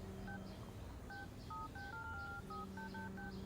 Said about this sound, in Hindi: ये तो फोन पर क्या टिप टिप कर रही है?